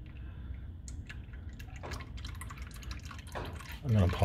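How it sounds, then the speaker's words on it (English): Engine oil drips steadily from the drain of a 2016 Nissan Qashqai during a service, irregular small drips close by over a low background rumble. "So it's just dripping away there now."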